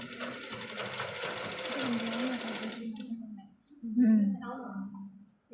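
A sewing machine stitches fabric for fencing in a close, steady mechanical whir, pausing briefly before starting up again, with a voice speaking over it.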